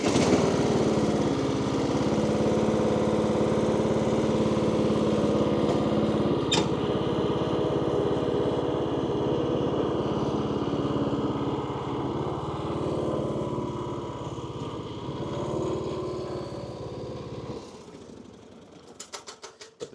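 A Kohler-powered lawn mower engine runs at a steady, loud drone for most of the stretch, then cuts off abruptly near the end, leaving a few faint clicks.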